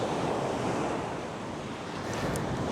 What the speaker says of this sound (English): there is quite a strong breeze blowing off the sea